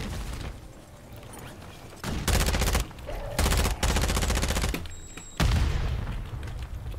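Video game gunfire comes in three loud, automatic bursts: two short volleys, then a longer sustained stream of rapid shots, separated by quieter background game sound.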